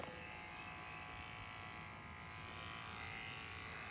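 Electric dog clippers trim a pet's fur, giving a steady, close, continuous buzzing hum that holds for the whole stretch with no pauses or speech.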